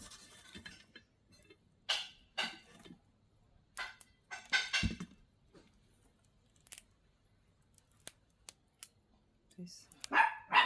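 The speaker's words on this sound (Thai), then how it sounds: "น้องอันนี้ก็ดื้อดื้อเห่าไม่หยุดเลยอ่ะ" Small dog barking over and over in a home during cooking, sharp yaps scattered throughout with a person talking intermittently in between.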